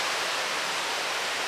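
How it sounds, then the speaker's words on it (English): Steady rushing roar of a waterfall in the Galloway Hills in southern Scotland, heard from a distance as a continuous broadband wash of falling water with no other sounds over it. "Definitely hear a waterfall down there"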